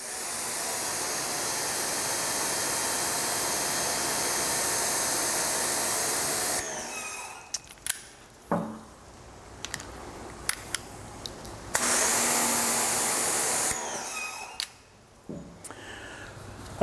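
An AR Blue 1600 psi electric pressure washer fitted with a 25-degree 2.5 nozzle runs with a loud steady hiss and motor drone, cuts out briefly with clatter and knocks, then restarts for a few seconds.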